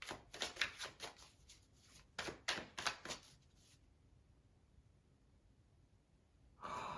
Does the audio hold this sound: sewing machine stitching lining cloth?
no